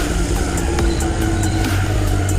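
A racing car engine roars steadily in an anime street race, a loud sustained drone with a shifting pitch and no voices over it.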